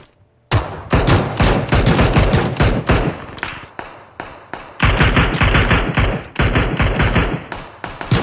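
Rapid bursts of automatic gunfire from a first-person shooter video game, with loud sustained firing that comes in waves and breaks off briefly before starting again.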